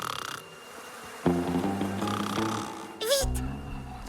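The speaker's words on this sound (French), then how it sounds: "Mais ce sont juste des mouches." Flies buzzing in a steady drone with rising and falling whine, close and fairly loud, underneath speech and a brief high squeaky voice.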